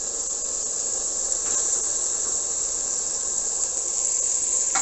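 Onions dropped into hot meat juices in a pot sizzle with a steady, bright hiss that stays even and close throughout, with no talking.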